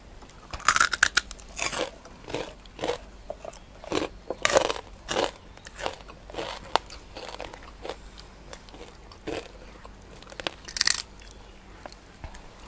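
Someone eats crunchy pork rinds (khaep mu) up close, with repeated crisp bites and crunchy chewing in an irregular rhythm.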